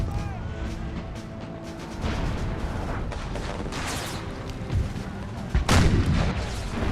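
Booming cannon and artillery blasts from a Gettysburg Civil War battle game roll out over a constant rumble of distant battlefield fire, with louder nearby explosions near the end.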